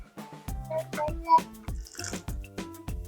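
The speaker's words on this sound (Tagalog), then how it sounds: "Tapos, mag-add po tayo ng konting tubig." A little water is added to karamba as it cooks in a pot, giving a few soft splashy drips and trickles with faint clinks, close and fairly quiet.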